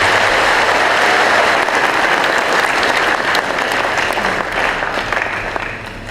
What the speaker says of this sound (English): they do deserve a sound applause for the sacrifice that they made.